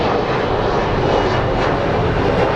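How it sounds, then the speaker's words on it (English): An Embraer 175 jet roars steadily on departure from Phoenix Sky Harbor, a loud, broad engine rush filling the air without pause. "So we have an Embraer 175 that's going to be departing"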